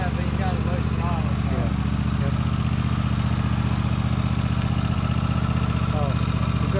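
A 2023 Toro TimeCutter 60-inch zero-turn mower with a Kohler engine running at low throttle, a steady close rumbling drone with people talking over it.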